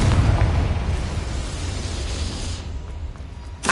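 The Bombarda spell explodes in Hogwarts Legacy: a loud, booming blast opens and then rolls out into a long roaring rumble of debris noise. It fades gradually over a few seconds, with a fresh burst at the very end.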